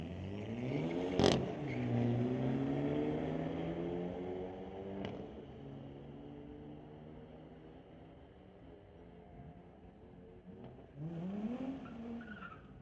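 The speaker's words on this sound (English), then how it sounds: "Next up, it's Trevin Spratley, bringing up his 2023 Hyundai Elantra N alongside Navjot Tour in the 2018 BMW." A 2023 Hyundai Elantra N and a 2018 BMW launching side by side at a drag strip: a loud tire squeal, then engines revving through rising gear changes as they pull away into the distance, and a second roar near the end.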